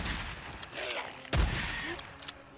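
Gunfire in the video game Days Gone, a few sharp shots with one heavy booming blast in the middle, heard under game ambience and light voice.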